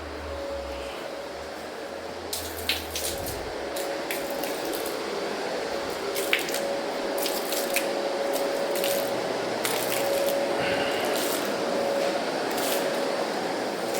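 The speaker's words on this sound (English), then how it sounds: "I'm gonna start cleaning and tacking using my True Neutral cleaner." True Neutral cleaner sprayed onto a screened engineered wood floor during cleaning and tacking, with short hissing spray bursts and wet squishing over a steady background hum.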